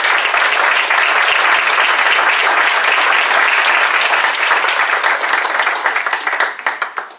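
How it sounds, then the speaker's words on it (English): A big round of applause from the audience at a Silicon Valley leadership event: loud, dense, sustained clapping that carries for several seconds before thinning out into scattered claps at the end. "Let's have a big round of applause."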